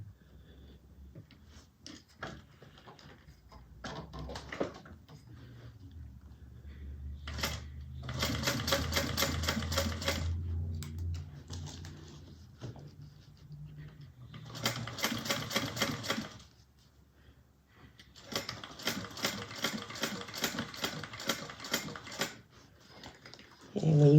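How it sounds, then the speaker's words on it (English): A sewing machine top stitches along the leather part of a handmade woven bag, running in three steady bursts of rapid stitching with pauses between, close and clear. "I'm just going to top stitch just on the leather part"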